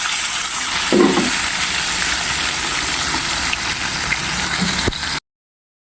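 Fish frying in hot cooking oil gives a steady, close sizzle and hiss that runs unbroken, with a few faint clinks from the pan, then cuts to silence.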